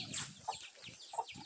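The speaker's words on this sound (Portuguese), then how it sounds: "Até a galinha veio pra cá" Chickens on a small farm cluck softly a few times, short scattered calls at a moderate distance against quiet rural background noise.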